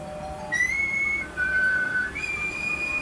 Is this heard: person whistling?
yes